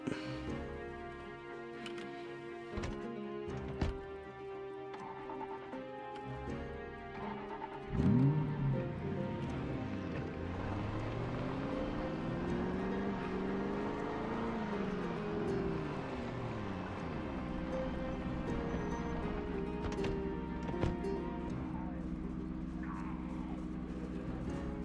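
A car drives in the zombie survival game Project Zomboid, holding a steady engine drone that revs with rising and falling pitch mid-clip, under light ticking and faint voices.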